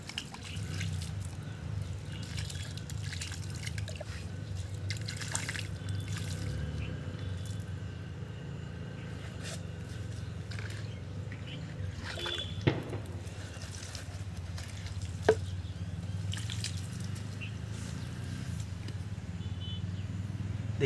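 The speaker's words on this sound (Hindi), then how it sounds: "तो दोस्तों इसके अंदर पानी डालेंगे हम।" Water poured into a potted hibiscus plant, a soft continuous trickling and dripping wash that runs steadily throughout at low level, with a couple of small knocks.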